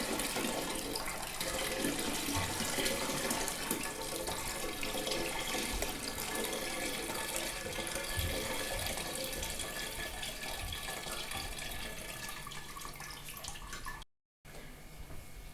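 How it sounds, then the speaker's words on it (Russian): Grain rinsed under a running kitchen tap: a loud, steady rush and hiss of water that continues without a break almost to the end, cutting out briefly just before finishing. "Промываем крупу несколько раз, пока она не станет чистой."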